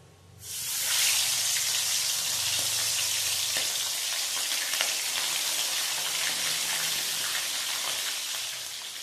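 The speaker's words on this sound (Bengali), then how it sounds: "এই মাছগুলো দেওয়ার আগে আমি গ্যাসের ফ্লেমটাকে একদম লো করে নিয়েছি, যাতে মাছগুলো তেলে দেওয়ার সঙ্গে সঙ্গে না ফাটে" Whole live fish dropped into hot oil over a low gas flame, a loud, steady crackling sizzle that erupts after a quiet moment and holds close and unbroken to the end.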